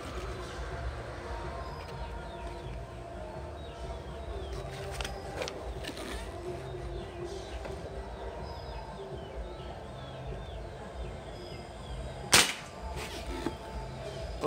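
Bocap 500cc PCP air rifle test fired for accuracy, a single sharp crack late against a low outdoor background hum, fairly close and brief.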